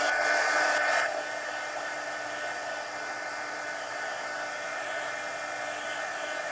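A hair dryer blows steadily over a wet watercolor painting, a continuous close whirring hiss that is louder for the first second and then settles into an even, slightly quieter drone.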